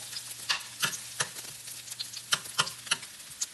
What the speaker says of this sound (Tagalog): igigisa natin yung sibuyas, bawang, at kamatis